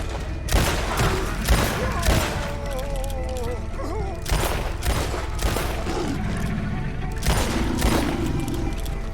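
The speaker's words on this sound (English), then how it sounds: "Come on, shoot it. Keep shooting." In Red Dead Redemption II, gunfire pours at an alligator: repeated loud, booming shots ring out at irregular intervals over a continuous bed of game sound.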